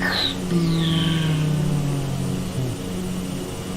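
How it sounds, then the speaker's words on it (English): A fixed-wing airplane takes off in Microsoft Flight Simulator 2020 among French Polynesian islands, its engine roar steady and fairly loud with a rising whine over about four seconds, no voices. "Airplane taking off right below us."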